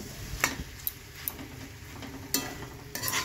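Vegetables stirred with a spice paste of dried red chillies and turmeric in a pan, a soft low sizzle broken by several sharp spatula clicks and scrapes against the metal, quiet and close with no voices.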